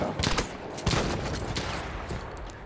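Battlefield 1 gunfire, a dense, continuous fusillade of rapid shots mixed with louder nearby cracks, keeps a steady, noisy intensity throughout.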